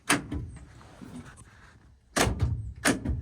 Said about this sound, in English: So I was trying to get the door lock to see if it was doing anything.